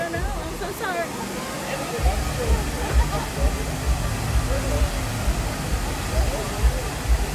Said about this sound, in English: Got to see the little water fountain waterfall here.